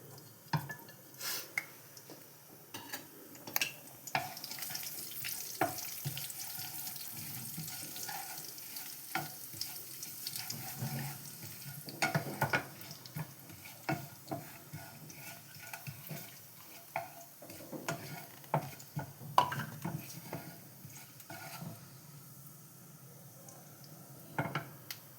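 Asafoetida, cumin, fennel and nigella seeds sizzle and crackle in hot oil in a pan, a steady quiet frying hiss broken by repeated scrapes and clinks of a spoon stirring against the pan.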